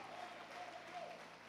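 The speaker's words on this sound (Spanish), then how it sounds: "ponte de pie dando aplauso a Dios" A church congregation claps for God during a worship service, a brief, faint, even wash of clapping with a low hum underneath and a faint voice mixed in.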